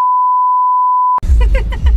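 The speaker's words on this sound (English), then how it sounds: "that is a large beep" A single long, steady electronic tone beeps for about a second, then cuts abruptly to someone speaking.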